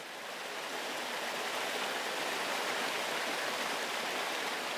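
A mountain stream broken by small waterfalls in Corsica rushes in a steady, even hiss of flowing water, continuous and moderately loud, with no voices.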